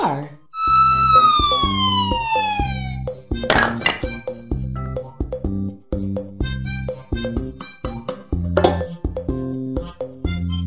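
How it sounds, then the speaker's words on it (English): A toy police car siren sounds near and loud, starting with a falling wail and moving into a repeating pattern of electronic tones and thunks alongside jingly music in a toddler puzzle game. "Police car."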